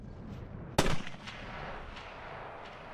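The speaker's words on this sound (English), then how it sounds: "this is some real, like, Cowboy Bebop gunfight vibes" Gunfire in an anime gunfight scene: a single sharp, loud shot bursts out, followed by a few fainter echoing cracks in the background.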